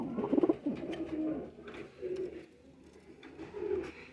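Teddy pigeons, a pair with their young, give soft low cooing in short rounded phrases. The calls are close but quiet and repeat every second or so.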